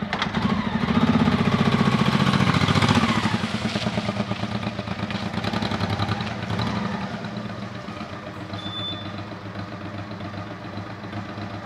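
A motorcycle engine running as the bike is ridden into a garage, loud and rough at first, then settling to a steadier idle-like rumble that fades somewhat toward the end, with no talk.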